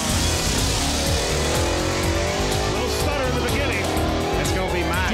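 A drag racing car makes its pass at full throttle, with a loud harsh engine roar and rising gear tones that run the whole time, while commentators talk over it.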